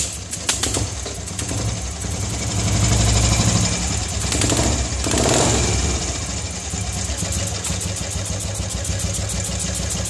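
An old-model Royal Enfield Standard motorcycle with a pickup fault runs nearby, its thumping single-cylinder beat steady and close, swelling twice as the throttle is opened.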